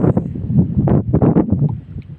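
Strong wind buffets the microphone in a steady roar with rough gusts and rustling, close and loud throughout, on an outing where a vendor battles wind and waves.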